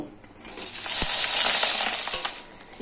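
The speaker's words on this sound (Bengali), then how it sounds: "এবার এই পিসগুলো এই তেলে দিয়ে ভেজে নেব" Small cut pieces of fish roe drop into hot oil and burst into a loud, close, hissing sizzle that swells and holds, with a few crackles and pops, no talk.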